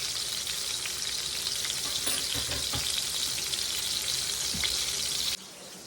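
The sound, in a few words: pork chops frying in a skillet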